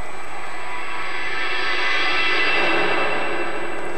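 Aircraft arriving at Luton Airport in July 1990, a broad steady roar of jet engine noise that swells in the middle and holds loud and fairly near throughout, with no voices.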